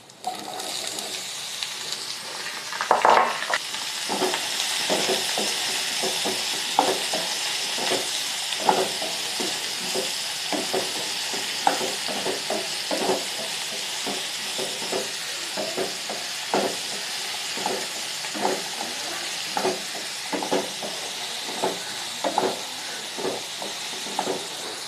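Pointed gourd pieces frying in a pan, a continuous loud sizzle with a steady run of spatula taps and stirring strokes close by, no one speaking.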